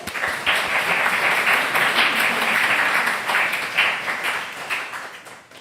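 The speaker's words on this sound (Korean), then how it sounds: "우리 축복의 박수 한번 해드릴까요?" A congregation at a Korean Presbyterian church's Christmas Sunday service in Madrid claps together, a full, continuous round of applause that holds steady for several seconds.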